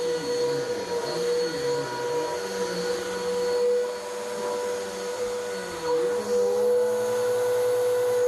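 Vacuum cleaner pulling dry soil out of a house carpet, a loud steady motor whine with shifting pitch as the head moves back and forth, running continuously.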